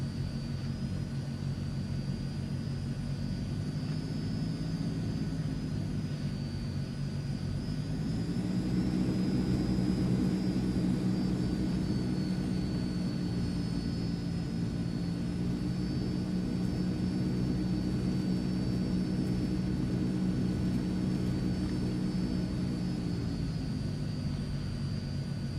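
Transall C160 military cargo plane engines roaring steadily at takeoff power in Microsoft Flight Simulator, a loud continuous drone with a high whine on top that swells slightly mid-run.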